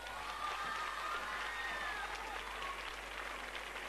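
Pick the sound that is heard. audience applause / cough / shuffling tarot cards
audience applause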